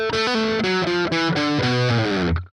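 A distorted electric guitar plays a bar from a solo: a quick run of sustained notes that ends in a slide downward, loud and close with nothing else underneath.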